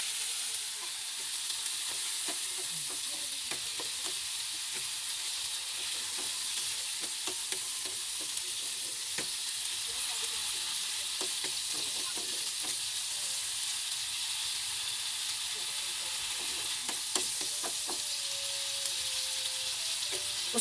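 Corned beef frying in a pan with continuous sizzling and intermittent scraping stirs, close and steady with no talk.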